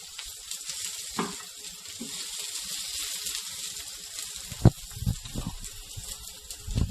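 Okonomiyaki pressed flat on a hot grill, sizzling with a continuous hiss, with occasional sharp pops and scraping bursts from the spatula later on, close and without talking.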